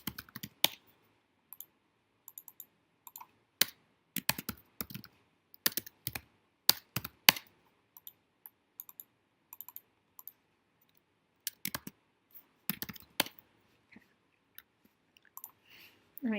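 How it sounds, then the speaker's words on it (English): Quiet, close clicks and taps on a computer keyboard come in scattered bursts with short pauses between them. "I'm just hitting 0 on my keyboard to turn off the visibility"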